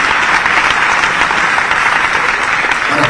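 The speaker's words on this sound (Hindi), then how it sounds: "तालियां बजा के स्वागत कीजिए" Steady, dense applause from a large audience at an awards ceremony in Bhopal, continuous and fairly loud throughout with no talk over it.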